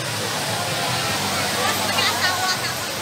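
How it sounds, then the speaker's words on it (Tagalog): Verdivia Falls pours in a steady, dense roar of rushing water, close and constant, with faint crowd murmur blended into the wash. "Ito na ang Verdivia Falls."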